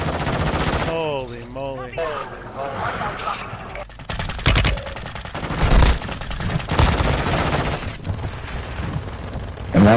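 Gunfire crackles through a multiplayer video game gun battle, with bursts of rapid shots and heavy reports building toward the end, while players talk and exclaim over the shooting.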